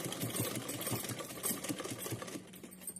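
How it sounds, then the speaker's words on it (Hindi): A sewing machine stitches a small doll's dress bodice, its needle chattering in a quick, steady rhythm, fairly close and moderately quiet, slowing slightly toward the end. "तो चलिए यहाँ सिलते हैं इसको।"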